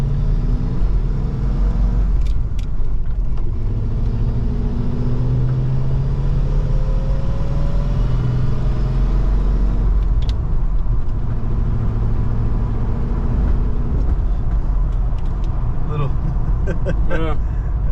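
A Ford Bronco with an EFI 302 V8 and four-speed manual heard from inside the cab, a loud engine rumble that rises and falls through low gears, with road noise and people talking over it.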